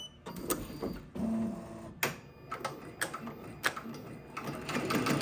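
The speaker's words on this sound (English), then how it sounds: "Let's go and start embroidering." An embroidery machine stitches an applique, its needle making rapid mechanical clattering bursts with brief pauses and sharp ticks, close and steady.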